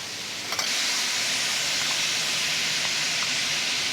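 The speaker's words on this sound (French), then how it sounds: "ensuite on va déglacer avec la bière" A pan of vegetables and honey is deglazed with beer, releasing a loud, steady steam hiss that bursts in suddenly and then holds an even, close sizzle to the end.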